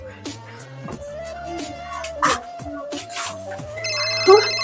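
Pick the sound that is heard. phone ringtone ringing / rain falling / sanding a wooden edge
phone ringtone ringing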